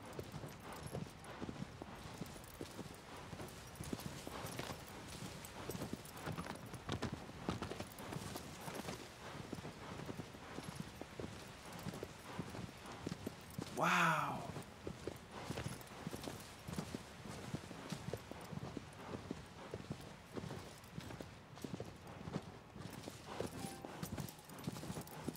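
Horse hooves clip-clop steadily through gameplay of Shadow of the Colossus on PS4 Pro, a continuous walking rhythm with a brief louder burst partway through.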